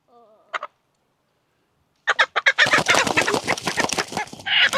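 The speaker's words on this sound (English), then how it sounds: "Silly chicken." A broody hen being dunked in water clucks and squawks in a rapid, agitated run of close, loud calls after a brief quiet opening with a short tone and one faint cluck.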